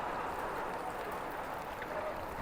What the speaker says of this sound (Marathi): पाऊस तर बघा कसला जोराचा सुरू आहे